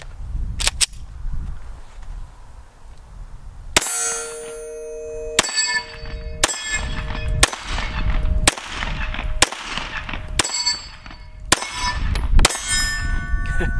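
A Bear Creek Arsenal Grizzly 101 fires Federal 150 rounds at steel targets. Each loud, sharp shot is followed by a ringing metallic clang, about ten hits in an irregular sequence, with no talking.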